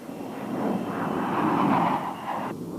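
A U-2 spy plane drones past in Air Force footage, a steady, fairly faint engine roar that swells and then fades slightly toward the end.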